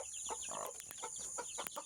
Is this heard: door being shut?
no